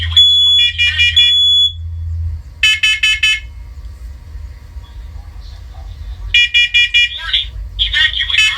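A First Alert Onelink smoke alarm sounds loud repeated bursts of high electronic beeping, alternating with a synthetic voice giving spoken warnings, with a low hum underneath.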